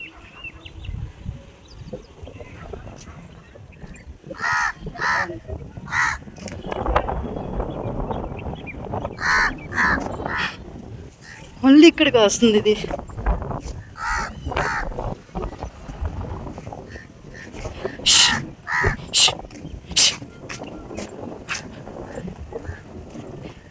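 Crows cawing near a hillside village at sunset, with wind shaking the phone: harsh caws come repeatedly in short bursts over a steady rumble, and someone speaks between the calls.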